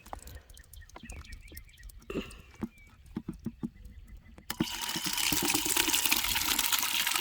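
Scattered drips and light taps, then a steady, close stream of water suddenly starts pouring and keeps running to the end.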